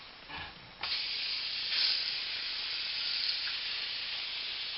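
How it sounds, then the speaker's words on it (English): A steady aerosol hiss of cooking spray, starting with a brief puff and then running continuously for several seconds, close and fairly loud. "spray the pan for the bread and butter pudding"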